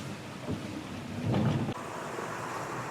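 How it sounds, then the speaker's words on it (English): Wind and ocean waves around a Neel 51 trimaran trade-wind sailing on an Atlantic crossing, a steady rushing wash with a louder surge of spray midway, no voices. "So this is how the trade wind sailing looks like"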